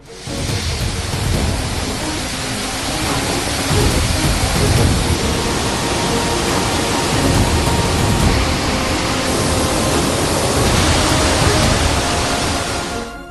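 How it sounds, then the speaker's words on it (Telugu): Kothapalli waterfall, swollen after heavy rains, roars as a loud, dense, continuous rush of water that fills the whole stretch without a break. "భారీ వర్షాలకు కొత్తపల్లి జలపాతం పరోళ్లు తొక్కుతోంది"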